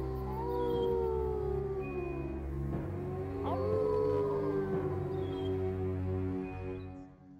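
A big bad wolf from a children's fairy tale howls in long, wavering, drawn-out cries that rise and fall over several seconds, fairly close and alone before fading out.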